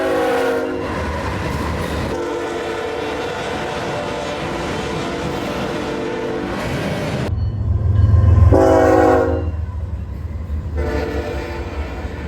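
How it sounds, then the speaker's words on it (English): A passing freight train sounds a K5HL air horn, loud sustained chords repeated in several long blasts over a steady rumble, with the horn cutting off partway and returning briefly near the end. "I heard a distant K5HL alerting me to the arrival of the ZLAC WSP."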